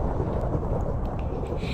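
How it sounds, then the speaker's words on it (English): Lightning strikes fired three at a time from an enchanted crossbow in Minecraft, heard as a dense, rumbling thunder roar that fills the whole stretch at steady loudness. "This crossbow allows me to shoot 3 strikes of lightning at one singular time."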